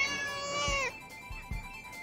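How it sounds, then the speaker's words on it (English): A cartoon cat in the animated Mr Bean series lets out a single drawn-out meow that bends downward and cuts off, followed by a few soft, low thumps. "Here, kitty, kitty."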